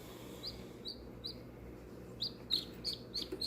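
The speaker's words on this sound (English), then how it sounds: "Nice warm little chick." A newly hatched, fluffed-up chick gives a series of thin, high chirps, about ten short peeps in an irregular rhythm, close by and fairly faint over a steady low background hum.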